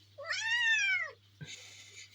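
A single drawn-out cat meow, loud and close, followed by a brief soft rustle; a steady low hum runs underneath.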